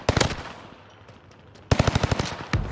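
Gunfire in Call of Duty Vanguard Warzone on Rebirth Island, with a sharp burst of rapid shots, a lull of quieter distant noise, then a second loud automatic burst and a final single crack.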